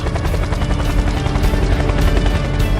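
A loud, steady drone from a NI-600VT Night Intruder unmanned helicopter, the rotors chopping and the engine roaring continuously as if passing close overhead.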